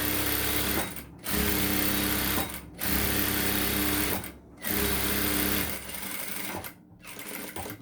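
A sewing machine runs a top stitch along the back waist panel of a blouse in four steady mechanical bursts, each separated by a brief pause. The whirring is close and loud, with no voices.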